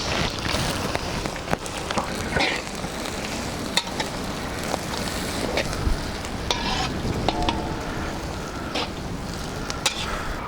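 Chopped garlic and sliced onions sizzle and fry in a pan for pasta, a steady crackling hiss with stirring scrapes and occasional sharp clicks throughout.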